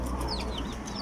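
A rooster at a home yard gives short clucking calls, a few quick close vocal bursts over a low background hum.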